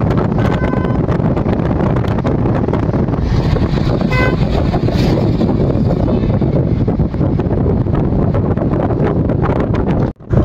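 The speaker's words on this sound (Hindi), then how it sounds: "बहुत तेज हवा चल रही है।" Strong wind blusters loudly and continuously against the microphone during early-morning travel toward Haridwar, a dense roar that barely lets up, with brief horn-like tones mixed in.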